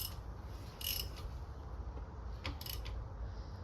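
Quiet ratcheting clicks from a wrench tightening the rear differential drain plug on a BMW X5 G05, a few short close bursts of mechanical clicking over a low background hum.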